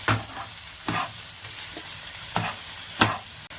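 Spring onions fry in a pan with paneer, steady sizzling broken by a few sharp scrapes and stirs of a utensil at irregular intervals, close and fairly loud with no talking.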